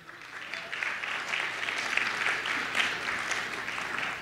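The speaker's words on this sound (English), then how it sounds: "Let's give another round of applause for the best man, Michael." Guests at a wedding reception in Dallas applaud the best man, a dense, steady round of many hands clapping at close range, sustained at even loudness for a few seconds with no talk over it.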